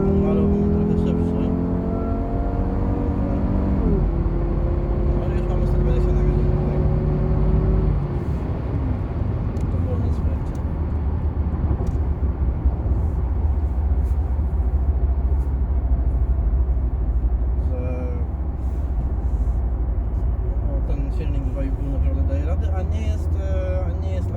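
Renault Safrane II 2.5 with automatic gearbox accelerating in sport mode, its engine note rising through gears with steady loud interior drone throughout, a shift audible early on, while someone talks over it.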